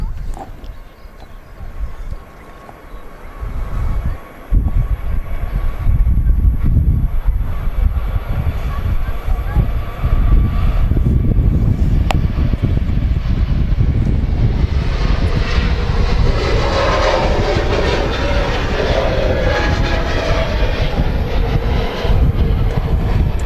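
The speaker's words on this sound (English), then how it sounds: "Turkish 321 Neo now rolling." A Turkish Airlines A321neo rolls for takeoff at Manchester Airport, its engine roar building to a loud, steady, continuous rumble that holds throughout.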